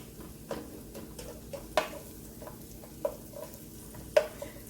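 Sliced vegetables cooking in a pan over medium heat for pasta primavera, giving a soft steady sizzle with occasional light stirring clicks and taps, close and fairly quiet.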